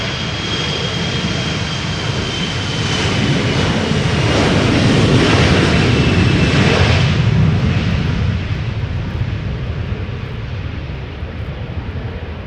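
A Delta Air Lines Airbus A330-300 takes off from Schiphol's Polderbaan toward Detroit, a loud, heavy jet roar with a deep rumble that builds, holds strong for several seconds and then eases off as it departs.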